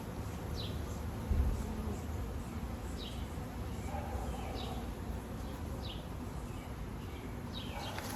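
Honeybees buzz around an opened hive during an inspection, a dense, steady hum close by, with individual bees swooping past the microphone now and then and no talk.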